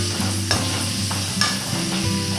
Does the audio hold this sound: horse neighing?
no